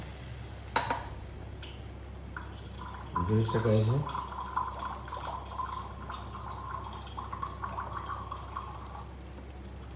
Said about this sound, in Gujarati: આપણે બે ગ્લાસ આ પાણી ઉમેરી દઈએ છીએ